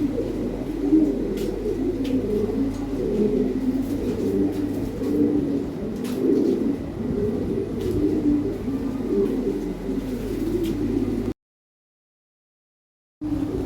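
A black pair of Lahori pigeons coo continuously at close range, with low, rolling, repeated calls over a steady background hum.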